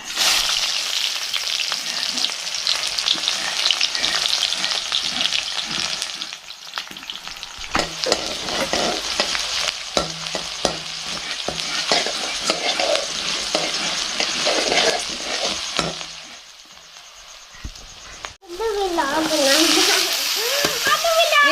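Onion frying in oil in a kadhai over a wood stove gives a loud, continuous sizzle with scraping stirs. The sizzle eases and drops away near the end, where a voice briefly speaks.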